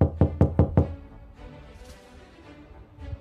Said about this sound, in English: Did you guys hear that knocking?